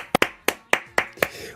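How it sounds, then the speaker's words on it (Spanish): About five sharp, separate handclaps ring out close and fairly loud, spaced unevenly over a second and a half rather than merging into a full round of applause. "un aplauso"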